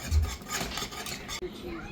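Cheese fondue whisked in a pot, a steady scraping and swishing of the whisk against the pot with a brief break near the end.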